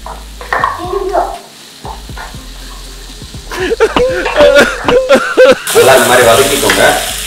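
Onions sauté in a pan for an Afghan-style omelet, sizzling and scraping as they are stirred, with a person talking over the cooking.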